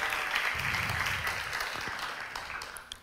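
A church congregation at a Sunday service claps together in a dense, steady burst of applause that fades slightly over a few seconds, heard from within the room.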